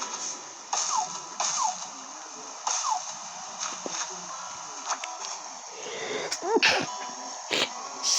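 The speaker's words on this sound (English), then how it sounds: "Excuse us, we sneezed." Sneezes from an Animal Crossing: New Horizons villager recur as short bright bursts over quiet game background music, with a few sharper clicks toward the end.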